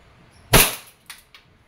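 A DB airsoft 1911 MEU (728) pistol fires one sharp, loud, close shot, followed by two fainter clicks; no one speaks.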